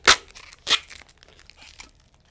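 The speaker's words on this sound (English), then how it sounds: "I'm going to peel back on each corner." Protective film is peeled off ChromaLuxe photo panels in two sharp tearing rips, followed by softer crinkling and faint crackles, close and isolated with no talk.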